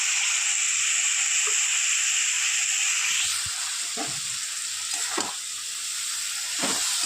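Gima greens go into hot masala that has released its oil, a bright hissing sizzle that drops in intensity as the leaves land, followed by a few soft scraping stirs, with no voices.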